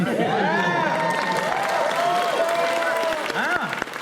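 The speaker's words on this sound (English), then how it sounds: "the crowd became a bit rowdy" A rowdy crowd at an awards event in San Francisco applauds and cheers loudly and continuously, with overlapping shouts and whoops and voices rising above the clapping throughout.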